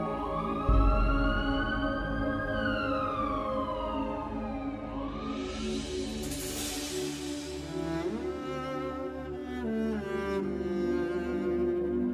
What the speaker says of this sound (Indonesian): Kok ada suara ambulans, Om?